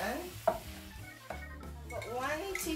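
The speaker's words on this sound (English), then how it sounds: "Give it a good stir." A sauce seasoned with pepper is stirred in a pot on the stove, with a soft scraping and light sizzle in short, uneven strokes at close range.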